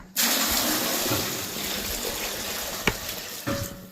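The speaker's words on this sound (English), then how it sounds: "and pour the water in." Water is poured steadily into a farm bucket, a continuous close splashing rush that runs for several seconds and then thins, with a couple of small knocks near the end and no voices.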